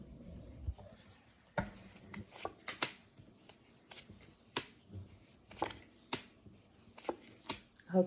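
Tarot cards are laid down one after another on a table, a close, quiet series of soft slaps and flicks at an uneven pace.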